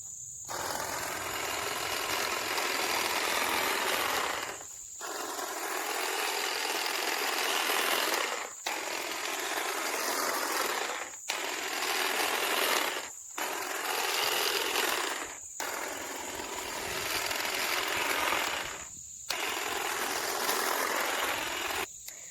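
A Saker 20V cordless electric hedge trimmer runs in repeated bursts several seconds long, each a close, steady high buzzing whir of the motor and blades, broken by brief pauses.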